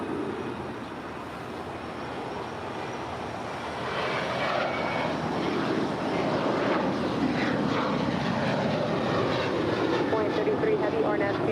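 An airliner takes off from runway 25 right at LAX, its jet engine roar swelling from a moderate rumble to a louder sustained drone partway through, heard from some distance.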